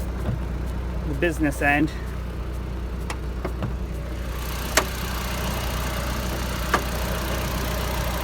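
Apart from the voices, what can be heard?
Audi TT Mk1 engine starting and idling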